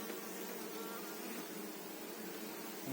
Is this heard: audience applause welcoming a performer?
no